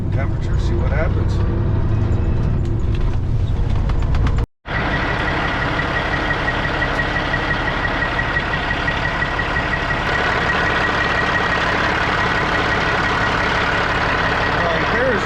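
A Cat C15 diesel truck engine idles steadily and loudly up close after a drive, with a brief dropout partway through and a constant rumble throughout.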